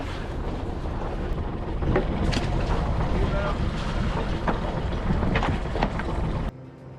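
A boat motor runs steadily at close range while leaving Cagliari harbour, its low rumble mixed with buffeting wind noise, before cutting down abruptly near the end.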